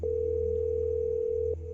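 A steady electronic phone dial tone from a horror video game hums continuously, with a faint low drone beneath it and a brief click near the end.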